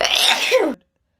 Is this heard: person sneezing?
yes